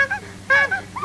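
A bicycle horn imitated with a cupped hand and breath, giving a short, nasal honk like a squeezed rubber bulb, then a second, louder honk, close and alone.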